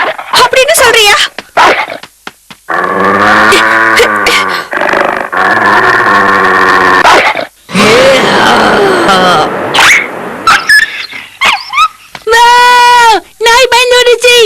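Cartoon dog in a Tamil-dubbed Shinchan episode whimpers and yelps in high, wavering bursts, mixed with animated character voices and chatter throughout.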